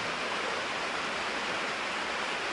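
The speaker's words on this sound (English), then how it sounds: "you might be able to hear it is raining outside, and it's actually coming down pretty hard" Heavy, cold rain pours down outdoors in a steady, dense hiss with no pauses and no voices.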